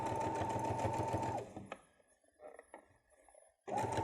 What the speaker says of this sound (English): I'd like to do a back stitch over the seam itself just to reinforce it